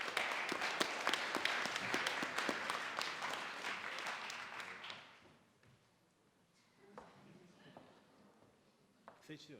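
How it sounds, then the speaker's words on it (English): Audience applauds at a startup pitch show, a dense burst of clapping that fades out after about five seconds, leaving a few scattered taps and room noise. "So big applause for the next startup, which is Ascend Level of Iris Biometrics."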